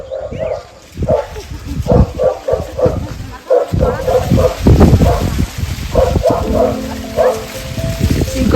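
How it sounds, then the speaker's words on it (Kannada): Dog barking played through loudspeakers in a farm field of maize bordered by forest, used to scare off monkeys, comes as repeated rhythmic barks and yips, loud and close, with voices talking over parts of it. "ಸೊ ನೀವು ನಾಯಿ ಬೊಗಳ್ತಾ ಇರುವಂಥ ಸೌಂಡ್ ಕೇಳ್ಬೋದು."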